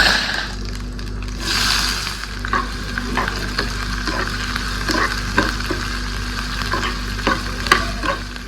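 Eggplant bharta cooking in a kadhai on a gas stove, with a steady frying sizzle under repeated scraping and stirring strokes of a utensil against the pan, close and fairly loud, with no talking.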